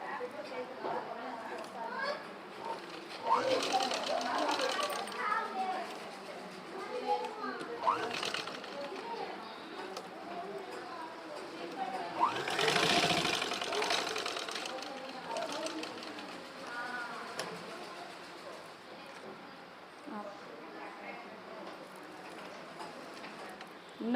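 A sewing machine runs in short bursts while stitching a small child's dress for a 3 to 4 year old, its needle ticking rapidly under steady talking.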